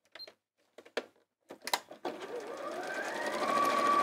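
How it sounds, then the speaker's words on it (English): A sewing machine stitches around the edge of a cushion, starting after a few clicks and taps, then running as a steady whirring hum that gradually speeds up, close and clear. "we're going to sew all the way around the edge"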